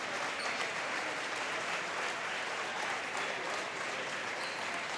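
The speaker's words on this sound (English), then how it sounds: "giving his seniors a round of applause" Steady applause from a crowd in a large gym at a high school basketball semifinal, continuous and moderately distant, with no break over several seconds.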